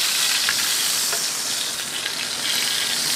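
Ground beef sizzles and crackles steadily in a hot pan, a dense close frying hiss throughout with small pops, no talking.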